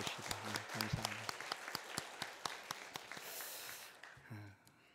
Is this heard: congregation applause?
yes